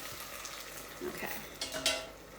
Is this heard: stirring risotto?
yes